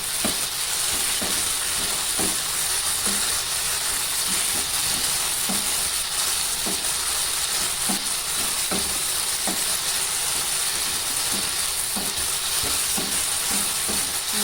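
Eggplant simmering with tamarind juice in a pan is stirred steadily, with a constant sizzle and hiss under regular soft spoon scrapes and taps against the pan, close up and with no talking.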